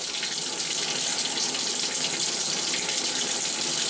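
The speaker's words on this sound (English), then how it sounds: "let it flow a little bit more to get the air out of the tank" Hot water pours from a household faucet after a water heater flush, forcing air out of the tank: a steady, close rush of running water with no pauses or talking.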